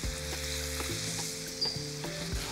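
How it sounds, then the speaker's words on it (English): Steady crackling sizzle of meat searing in a hot pan, close and continuous, with a low hum underneath and no voices. "You need to hear that sizzling."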